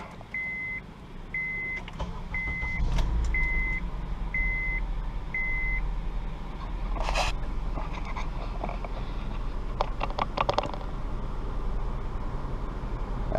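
Honda CR-V or Acura RDX engine starting and idling after an AC relay replacement, a low steady engine rumble underneath a series of six evenly spaced electronic chimes, followed by some rattling clicks.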